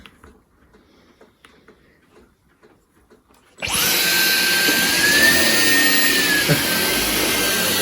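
A cheap cordless stick vacuum cleaner, a Dyson V15-style clone, switches into boost mode partway through: after a few seconds of faint room noise it bursts into a loud, steady high-pitched whine and airy roar, close up, with a slight pitch wobble.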